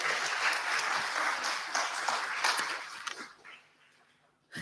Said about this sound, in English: Can we give Lloyd a round of applause to say thank you?